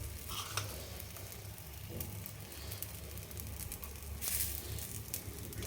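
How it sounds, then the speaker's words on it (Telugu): Onions frying in a pan for pesarattu, a soft, steady sizzle heard fairly faintly, with light scraping and a brief louder burst toward the end. "ఇప్పుడు దీంట్లో ఉల్లిపాయలు వేసేద్దాం"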